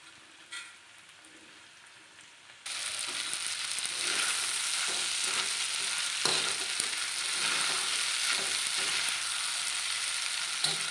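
Village-style pasta cooking on a flat tawa griddle as its water dries off: a faint start, then a loud, steady broadband sizzle from about a third of the way in, with occasional scraping stirs.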